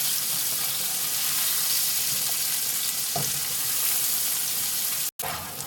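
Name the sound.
frying onions with bacon and sausage, stirring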